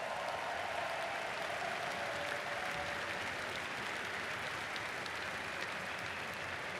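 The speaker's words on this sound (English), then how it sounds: "all of the competitors deserve a round of applause" An arena audience at a cosplay contest applauds in a steady, dense wash of clapping that holds evenly from start to finish without voices.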